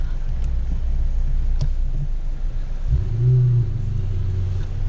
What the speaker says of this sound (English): Oh, you can hear that Ferrari